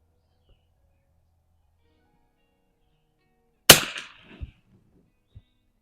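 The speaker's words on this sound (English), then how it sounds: "Sometimes it's just about the ambiance of shooting a cool old gun like this." A Savage 19 NRA Match .22 target rifle fires a single sharp, loud crack after a few seconds of near silence, followed by a brief rattling tail and a faint later click.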